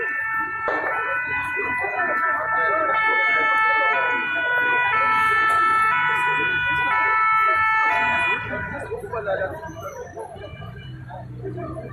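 Fire engine siren wailing loud and close at a burning apartment building in Paris's 19th arrondissement, its two-tone pitch sustained for several seconds before fading slightly, with crowd noise and voices beneath.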